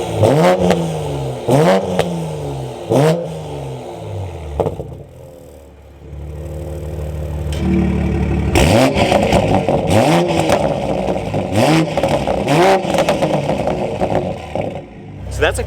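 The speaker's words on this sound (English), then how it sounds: "So that's a quick sound clip of this car idling and then revving, normal mode versus sport mode." A Toyota Supra with an active Magnaflow exhaust idles and is revved repeatedly, giving loud, sharp rising and falling blips over a rumbling idle, with a quieter stretch in the middle before another burst of revs.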